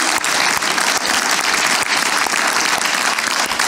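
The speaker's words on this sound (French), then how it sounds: "Et enfin, je vous demande de vous applaudir." Audience applause at a literary poetry evening, a dense, steady wash of many hands clapping at close range, with no voices above it, for nearly four seconds.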